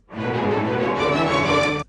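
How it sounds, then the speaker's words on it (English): A sustained string section plays a smooth melodic line together in unison, bowed and continuous, fairly loud and steady throughout with no accompanying chords. "We've got, in the strings, it sounds like this."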